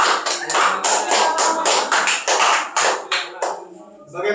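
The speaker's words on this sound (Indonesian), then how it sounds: "Tepuk tangan untuk kelompok 3." Classroom of children clapping together for a student group, a brisk rhythmic burst of many hands near and loud for about three and a half seconds, then fading out.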